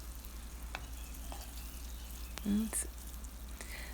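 Homemade seitan frying in a pan while being browned, a soft continuous sizzle with light crackles and occasional stirring clinks, a brief voice heard over it.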